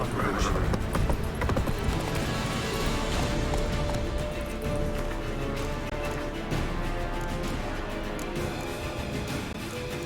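Roach, Geralt's horse in The Witcher 3, gallops in a steady clip-clop of hooves under game music and ambience, with a brief whinny near the start and a voice speaking.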